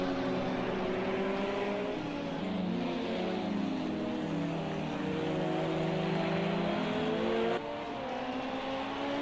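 LMP2 race car engine in a racing video game, a loud continuous high-revving drone with shifting pitch as the car brakes and downshifts through gears, alone without talk.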